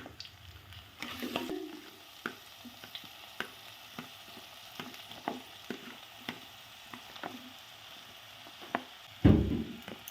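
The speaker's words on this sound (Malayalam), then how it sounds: "കുറച്ച് എണ്ണ ഒഴിച്ചാൽ മതി ഒന്ന് വഴറ്റാനായിട്ട്" Vegetables sauté in a little oil for a Trivandrum-style aviyal, with a quiet, steady sizzle broken by frequent stirring scrapes and clinks and one louder clatter near the end; nobody talks.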